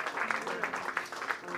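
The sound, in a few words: congregation clapping in praise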